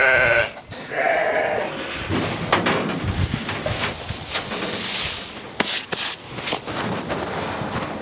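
Sheep on a village farm bleat loudly and repeatedly while they wait to be fed hay. Rustling and shuffling footsteps move nearby between the calls.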